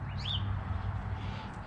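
Birds chirp outdoors near a cabinet-door sanding job, a couple of quick rising tweets early on, fairly faint over a low steady background hum, with no voices.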